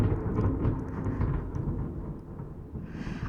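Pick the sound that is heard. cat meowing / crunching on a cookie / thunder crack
thunder crack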